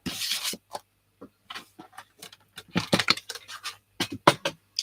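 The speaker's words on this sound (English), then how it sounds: "So I'm going to just trim that off so that it's a fraction smaller." Paper Christmas card being trimmed along its edge during crafting, with a series of short, close scraping and snipping bursts separated by brief pauses, no talking.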